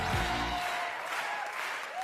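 An audience applauds for young comedian Mustapha at La Grande Soirée du rire 2017, a dense wash of clapping filling the room. A brief voice comes near the start.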